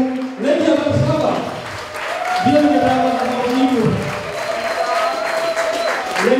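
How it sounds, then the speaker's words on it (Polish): Guests give warm applause for the couple and the band at a wedding reception, sustained clapping mixed with voices and music. "proszę o gorące brawa dla Oli, Andrzeja i zespołu"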